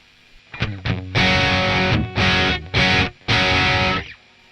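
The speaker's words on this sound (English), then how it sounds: "And I also have this Marshall style dirty sound." Marshall style distorted electric guitar played through a Joyo Atmosphere reverb pedal: two quick picked notes, then four loud sustained chords with short gaps between them, close and dense with overdrive, no speech.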